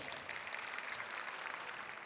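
Audience applause at an awards-style event honoring young heroes, a continuous patter of clapping heard from a distance, fairly quiet and even from start to finish.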